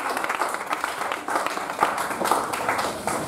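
A church congregation applauding together in a dense, steady burst of clapping that lasts a few seconds, close and fairly loud.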